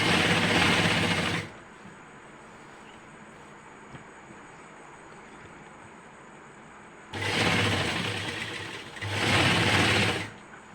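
Sewing machine stitching a skirt hem, a rapid whirring run at the start, then quiet, followed by two more close, loud bursts of stitching near the end.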